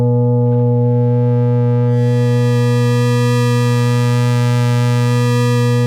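A loud, sustained buzzy FM synthesizer tone from a Quad Operator Eurorack module, with a bright, harmonic-rich sawtooth timbre, holding one pitch and growing brighter after the first couple of seconds.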